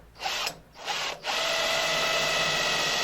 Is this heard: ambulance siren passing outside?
no